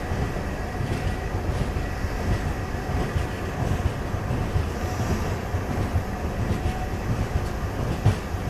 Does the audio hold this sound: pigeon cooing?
no